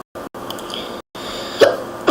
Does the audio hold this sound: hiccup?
yes